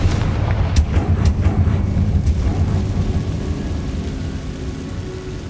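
Bombarda and Confringo spell explosions in the Hogwarts Legacy video game: a loud series of booming blasts with sharp cracks early on, followed by a rumbling tail that slowly fades.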